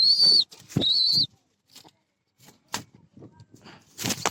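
A pigeon lifted out of its cage beats its wings, a few loud close flapping bursts at the start and again at the end, with quiet rustling and handling noise in the pause between.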